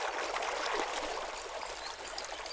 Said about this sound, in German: Kohlendioxid sorgt dafür, dass das Quellwasser an die Oberfläche sprudelt.